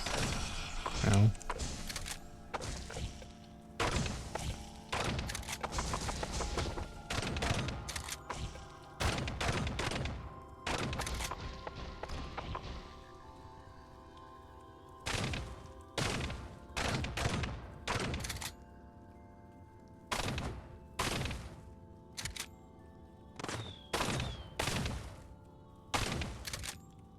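Repeated gunshots in the Caves of Qud video game, sharp bursts arriving in irregular clusters over steady background game music, loud and close throughout.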